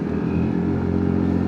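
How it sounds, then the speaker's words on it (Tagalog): A motorcycle passing on a mountain road in Pangasinan, a steady droning engine hum with low rumble, fairly loud and close, heard without talk. "Mayroong motor dun, ah."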